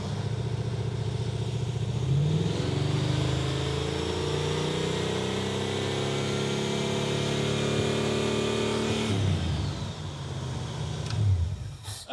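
The Super Camaro's V8 engine revving at part throttle, a loud, close rumble rising and holding for several seconds, then dropping off sharply before a brief blip near the end.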